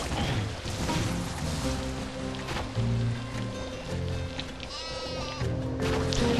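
Sheep bleating inside the video game Skylanders Giants, with several repeated bleats over busy game music and effects, fairly loud throughout.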